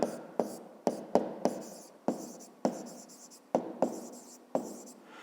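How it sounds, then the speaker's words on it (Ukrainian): Pen on paper writing out a math answer, a quick series of scratchy strokes with sharp starts and short pauses between them, close and clear with no talking. "Записуємо тоді друге."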